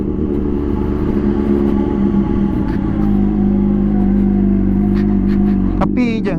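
Honda CBR 600 RR HRC Edition motorcycle with an Akrapovic exhaust idling and revving nearby, a steady smooth engine drone with a sharp rev near the end.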